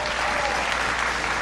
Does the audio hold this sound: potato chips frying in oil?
no